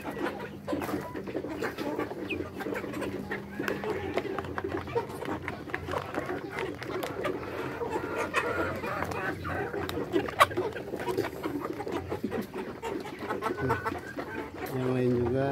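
Chickens cluck and call in a flock while being fed bran mixed with azolla, a steady busy layer of bird noises running throughout alongside other farm background sound.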